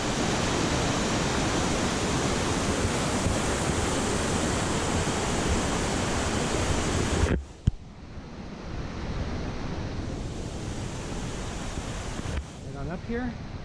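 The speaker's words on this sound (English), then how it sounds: "The creek as it flows downstream." A creek flows downstream below waterfalls, a loud steady rush of water that cuts off abruptly after about seven seconds, followed by a quieter, softer flowing wash with a brief handling knock.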